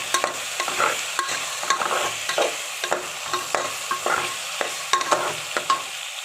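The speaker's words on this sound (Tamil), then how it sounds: "காய்கறி போட்டு நல்லா வதக்கி விட்டுக்கலாம்." Vegetables with ginger, garlic and tomato sautéing in a pan for a vegetable kurma, a steady close sizzle broken by frequent sharp clinks and scrapes of a spoon stirring, with no talking.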